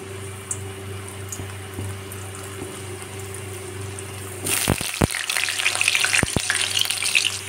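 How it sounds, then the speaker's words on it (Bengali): Potatoes and chicken dropped into hot oil burst into a loud, crackling fry about halfway through, after a quieter stretch with a steady background hum and a few faint clicks, and keep spitting and sizzling densely to the end. "আলু দিয়ে চিকেন কষা বানানোর জন্য আমি আলুগুলো লাল লাল করে প্রথমে ভেজে নেব"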